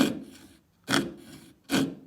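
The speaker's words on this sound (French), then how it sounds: "Ici, on n'est pas sur un bon sciage puisque je cherche à pousser sur ma lame de scie." Hand saw forced through a sheet of cellulose acetate, the blade binding: three harsh rasping strokes with short gaps between them, close and alone.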